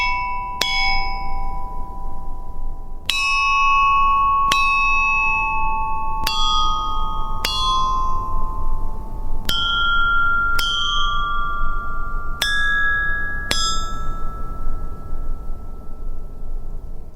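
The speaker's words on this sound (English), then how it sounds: "Here is a recording of me striking the bells in order." Ancient Chinese Bianzhong bronze bells are struck one after another, about ten clear metallic strikes each ringing out with a long shimmering decay, close and loud in a quiet setting.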